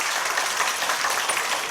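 Applause from a congregation at a church commemorative worship service, a steady even wash of many hands clapping at moderate distance, no voices.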